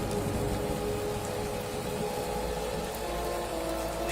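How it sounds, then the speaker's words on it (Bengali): Rain falling steadily outside in a cartoon scene, an even, continuous hiss of drops with no pauses and no voices. "বাইরে বৃষ্টি এখনো সমান তালে চলছে।"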